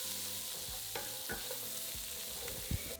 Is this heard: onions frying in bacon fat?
yes